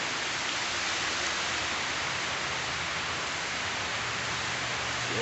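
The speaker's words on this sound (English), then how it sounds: "I mean, it's pouring out right now." Heavy rain pours steadily over a creek in an Ohio forest, a dense, loud, unbroken hiss of falling water filling the whole stretch with no voices.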